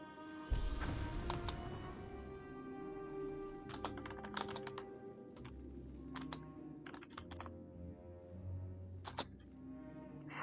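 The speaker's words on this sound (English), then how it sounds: "I'm typing it out now." Rapid typing on a computer keyboard during a World of Warcraft raid, with clustered key clicks and bursts over steady game music and background tones.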